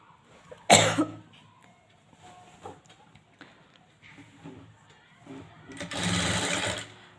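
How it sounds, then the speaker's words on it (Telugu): Sewing machine stitching a folded thread piping edge in a short, loud burst near the end, preceded by a sharp cough and some quiet handling sounds. "ఇప్పుడు ఇలాగ ఫోల్డింగ్ చేస్తూ కుట్టండి"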